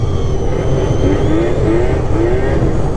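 Race car engine in a video game with vehicles such as the Catalyst, Matryx and Viper, holding a steady loud drone and rising revs throughout, with no talk over it.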